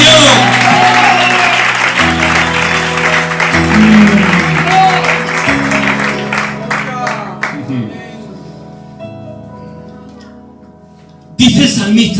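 A church congregation applauding during a service, a loud sustained wash of clapping over steady organ or keyboard chords that fades out partway through, leaving held tones and some voices before a sudden loud burst at the end.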